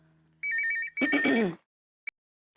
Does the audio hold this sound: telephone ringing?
yes